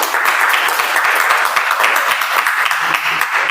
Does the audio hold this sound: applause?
yes